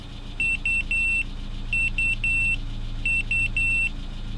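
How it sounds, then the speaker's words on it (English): A 1992 Renault Trafic van engine idles steadily with a low rumble while its LPG changeover system gives three groups of short electronic beeps as it switches over to gas. "starting the engine and getting it to switch over to gas, this should purge anything left inside the pipes"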